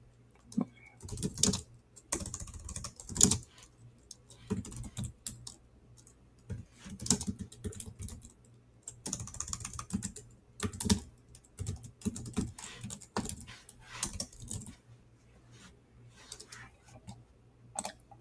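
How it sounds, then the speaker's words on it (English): Quick answer typed on a computer keyboard, close bursts of soft key clicks with short pauses between, no talking. "I'm just going to type in a quick answer."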